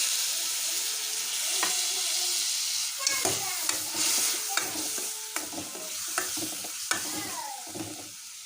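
Homemade whole-spice masala with cloves, cinnamon and cardamom sizzles in a pan after a splash of water, a loud steady hiss with a spoon stirring and tapping through it close by.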